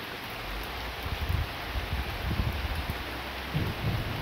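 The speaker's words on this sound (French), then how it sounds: "Ah, ça tonne au-dessus." During a moderate to strong September thunderstorm, low thunder rumbles in repeated rolling surges over a steady wash of rain noise.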